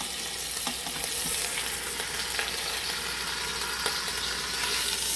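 A pot roast sears in a hot pan with a steady, close sizzle, with occasional light clicks and scrapes over the continuous frying hiss.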